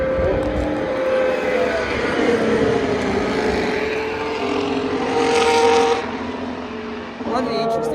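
Formula 1 race cars at the Japanese Grand Prix roar past in a loud, continuous engine whine that swells and fades as cars go by, with crowd noise beneath.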